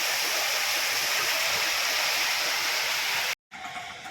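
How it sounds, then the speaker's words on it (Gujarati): Heavy rain pours in a dense, loud, continuous roar. It breaks off abruptly near the end, then returns slightly softer. "ઘણા દાડે વરસાદ પડે છે, મજા આવશે."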